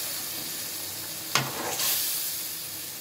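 A piece of fish goes into a hot pan and sets off a sudden burst of close, loud sizzling, which then settles into a steady frying hiss.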